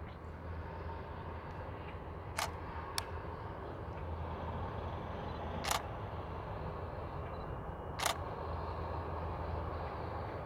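A camera shutter clicks a few times at the Disney Skyliner gondola station, sharp and isolated over a low, steady outdoor hum.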